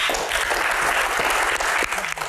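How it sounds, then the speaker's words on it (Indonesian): An audience at a disaster-preparedness Q&A session applauds steadily, a dense continuous clapping that fills the room, with faint voices underneath. "Baik, tepuk tangan."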